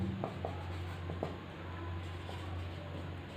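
A pen scratches across paper in short strokes while a math problem about a cube's volume is written out by hand, quiet and close over a low steady hum.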